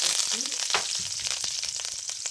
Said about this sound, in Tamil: பாருங்க, வெந்தயம் பொரிஞ்சிருச்சு.